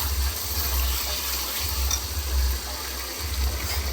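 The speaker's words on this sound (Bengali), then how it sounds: "তো আমি এবারে অল্প করে জল দিয়ে একে আরেকটু কষবো" Water is poured into a pan of frying spices during Bengali home cooking, a steady continuous rushing gush lasting several seconds, close and fairly loud.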